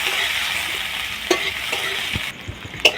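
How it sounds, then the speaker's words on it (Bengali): Chopped onions with cumin seeds sizzle in hot oil in a village kitchen, a steady frying hiss with a few scraping stirs of the pan near the end. "পেঁয়াজটাকে হালকা লাল লাল করে ভেজে নেব।"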